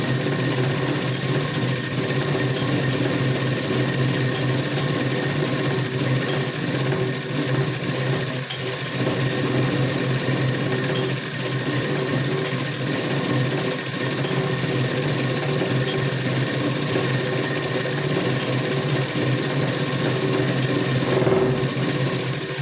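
A sewing machine stitches a half-inch folded strip of blouse fabric, producing a continuous, close mechanical whirr with a steady rapid rhythm and slight variations in speed.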